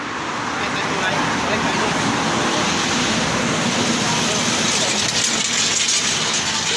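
A motorcycle engine running on a night road while being towed, a loud steady drone with road noise, voices talking over it.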